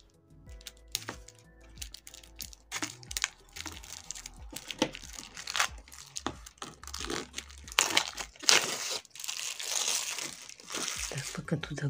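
Close crinkling and rustling of plastic packaging being torn open while unboxing knitting supplies, busy irregular crackles and tearing bursts throughout, with no talk.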